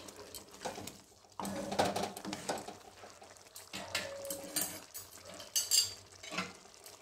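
Cooked rajma, a kidney bean curry, is spooned from the pot into a serving dish. Irregular scrapes, soft wet stirring and light clinks of the spoon against metal come up close, with no talking.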